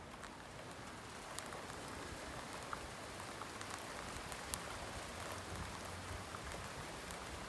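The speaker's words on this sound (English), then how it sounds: "Hear that confirmation from the rain." Steady rain falls on surfaces in a dense, even hiss with scattered sharper drops, continuous and unaccompanied by voices.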